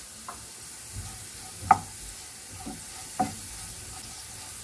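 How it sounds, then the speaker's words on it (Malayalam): A potato stir-fry being stirred in a pan after salt goes in: a soft constant sizzle under several scraping strokes of a spoon, with two sharper knocks against the pan. "ഒരു മുക്കാൽ വേവായി കഴിയുമ്പോൾ നമുക്കതിലേക്ക് ഉപ്പ് ചേർത്ത് ഇളക്കി കൊടുക്കാം"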